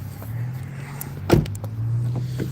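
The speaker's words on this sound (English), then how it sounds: "We're riding around in the freaking Nissan in the snow." A Nissan car driving through snow, heard from inside as a steady low engine hum with a brief thump and a few faint clicks, close and continuous.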